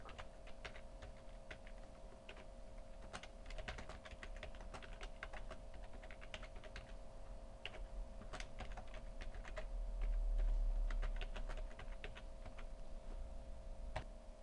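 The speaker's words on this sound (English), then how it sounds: "I hit Enter, and then I can type in my dialogue." Steady, rapid typing on a computer keyboard while working in Final Draft screenwriting software, with close, crisp key clicks and occasional heavier keystrokes, no voices.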